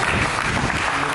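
Church congregation clapping during a sermon, a dense, loud, continuous burst of applause with no pauses.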